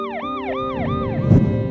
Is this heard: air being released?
no